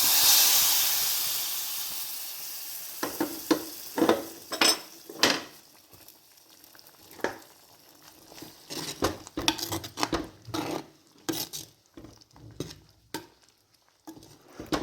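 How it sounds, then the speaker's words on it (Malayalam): Hot tempering poured into a curry of yam and soya chunks gives a loud opening hiss of steam that fades, followed by irregular spoon clinks and scraping against the pot. "നമുക്കത് കറിയിലേക്ക് ഒഴിച്ചു കൊടുക്കാം"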